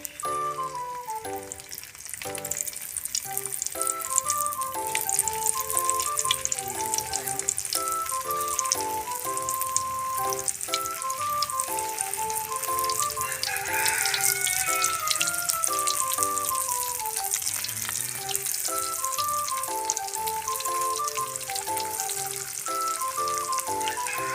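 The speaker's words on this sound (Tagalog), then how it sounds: "pagkatapos natin balutin yung ating munggo, ipiprito na natin yan." Mung bean spring rolls (lumpiang monggo) frying in hot oil, giving a steady close sizzle and crackle that runs throughout beneath continuous background music, with no talking.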